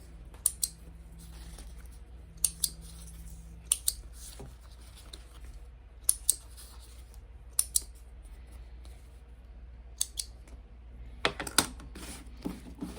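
Leather pieces for a bifold wallet being trimmed, heard as quiet, sparse snips and clicks spread unevenly over a faint room hush, with no talking.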